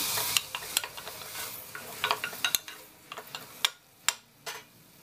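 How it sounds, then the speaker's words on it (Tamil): Pav bhaji masala ingredients are sautéed with salt in a pan, with faint sizzling under a series of distinct clicks and scrapes from a stirring utensil, close by and without talk. "இப்போ இதை நல்லா வதக்கணும்."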